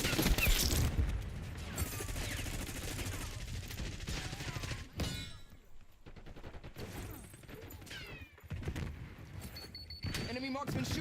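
Enemy marksman rifle fire in Black Ops 6 on the Nuketown map, with sharp shots cracking amid dense battle noise: bursts of gunfire, explosions and mechanical clatter continue throughout, loud and close.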